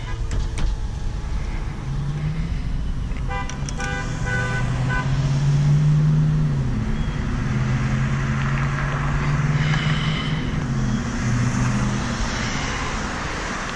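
A 2015 Hyundai Sonata SE drives in third gear in sport mode. Its engine drones steadily from inside the cabin, swelling and easing slightly in pitch as the car pulls, with no talking.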